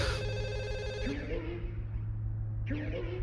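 A telephone rings during a prank call in the horror video game Forbidden Siren 2, a steady tonal ring over a low droning game soundtrack.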